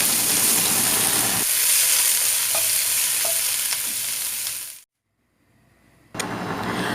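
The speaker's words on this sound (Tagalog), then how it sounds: "So this time we will add some chopped cabbage." Chopped cabbage stir-fried in oil in a pan, close loud sizzle with scattered stirring clicks that cuts out abruptly into near silence before the sizzle returns.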